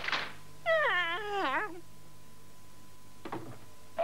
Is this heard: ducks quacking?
no